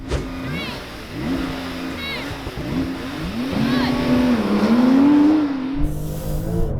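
Porsche 911 Turbo S in a drag race, the engine revving and climbing hard through the gears with a rising, strained note and some tire squeal, loud and close, with brief gear-change dips and no talk.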